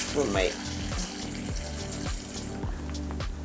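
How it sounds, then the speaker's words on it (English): Cold water runs from a kitchen sink tap into a cup while a homemade cleaning spray is being mixed, a close gurgling stream with rising fill tones, under a speaking voice. "Then I'm going to add 1 more cup of water. You can use cold water."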